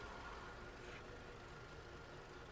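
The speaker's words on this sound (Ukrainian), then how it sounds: "Двигун працює чітко" A 2009 Volkswagen Golf 6 with automatic transmission idles steadily with a low, even rumble and faint hiss, no voices or changes in pitch.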